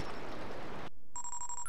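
Incoming-call ringtone in the Pikmin 3 video game: after a brief burst of busy game noise and a short silence, a bright electronic chime rings in quick repeated pulses, clear and alone.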